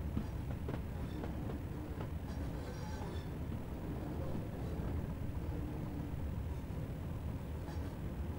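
Class 205 Thumper diesel multiple unit in Train Simulator 2018 runs steadily, with a continuous low engine rumble and faint rail clatter throughout, with no speech.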